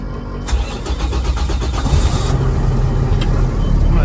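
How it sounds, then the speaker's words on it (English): A truck's diesel engine cranks and catches during a pre-trip inspection, then settles into a loud, steady idle that runs close and unbroken to the end. "I will start the engine."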